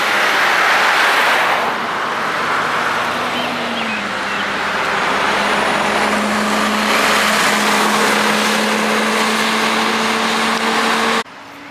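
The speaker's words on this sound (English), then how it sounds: "Here comes the bus." The WKU Route 4 city bus pulls up at the Penn Station stop, its engine loud and close, rumbling and droning steadily with a slight change in pitch as it slows and arrives, before cutting off abruptly.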